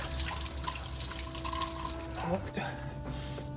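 Water running and splashing while an improvised snake enclosure is washed, a steady close gush with a brief change in flow near the end, and a voice faintly underneath.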